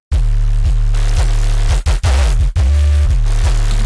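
Loud, heavily distorted synth sub bass, pushed through fuzz and saturation, throbs in a steady pulsing rhythm, gritty and saturated, with a couple of brief harsh noisy bursts midway.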